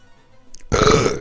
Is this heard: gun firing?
no